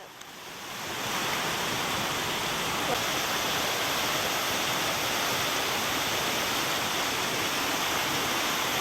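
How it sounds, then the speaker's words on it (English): Floodwater from Hurricane Helene roars past a collapsing dam, a loud, steady broadband rush that swells within the first second and holds unbroken, with no voices. "You see the water just roaring down through there."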